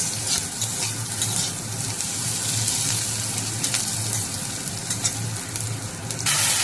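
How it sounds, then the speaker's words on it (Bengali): Onions frying in oil in a pan for a spicy dish of okra, prawns and potato, a steady close sizzle with soft crackle throughout and a brief stir near the end, no voices. "পেঁয়াজগুলো ভালোভাবে ভেজে নিচ্ছি"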